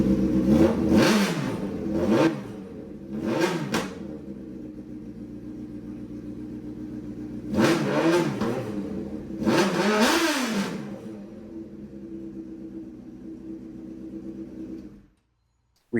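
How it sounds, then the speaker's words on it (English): A Geo Metro race car fitted with a CBR 1000 engine runs nearby, revving hard in several sharp bursts that fall back to a steady idle before it cuts off abruptly. "I'll punch in a clip of this one running"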